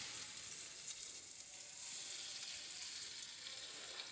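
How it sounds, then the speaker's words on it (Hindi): Dates cooking in a pan for date barfi, a faint continuous sizzle with soft crackle, steady throughout and without any voice. "खजूर को इसमें इतना पकाऊंगी कि ये पूरी इसमें मिक्स हो जाए"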